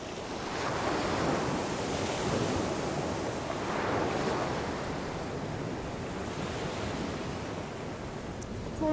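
Ocean surf rolls in steadily and slow waves break in a broad wash, while gusting wind buffets the microphone, rumbling low throughout.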